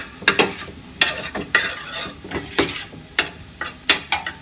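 Butter and plain flour cook together in a pan as a roux, with quick repeated stirring and scraping strokes over a soft sizzle, close and moderately loud.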